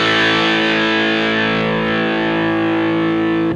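Electric guitar chord ringing through a DIY EQ distortion pedal stack, buzzy and scratchy, held loud and steady for a few seconds before cutting off.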